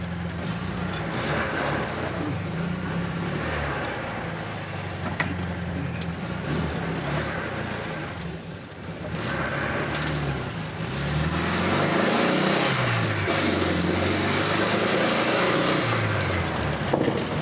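A 1971 Volkswagen Super Beetle drives along with a steady air-cooled engine drone and rumble, rising and shifting in pitch as it changes speed, heard from inside the car over wind noise.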